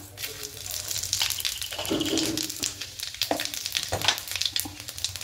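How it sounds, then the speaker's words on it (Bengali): Panch phoron and dry red chillies sizzle steadily in hot oil, a close, bright crackling hiss with small pops scattered throughout. "এবার এই তেলের মধ্যে ফোড়নে দেব পাঁচফোড়ন আর শুকনো লঙ্কা"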